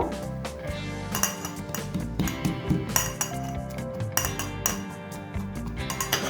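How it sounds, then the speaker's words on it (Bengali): Ginger, garlic and green chillies are pounded in a mortar and pestle with a steady run of sharp, clinking metallic strikes, each one ringing briefly, repeated rhythmically and close up. "এখানে আমি একটা হামানদিস্তা নিয়ে নিয়েছি এর মধ্যে একে একে আদা রসুন আর কাঁচা লঙ্কা আমি দিয়ে দেবো এগুলোকে আমি আধা থেঁতো করে নেব"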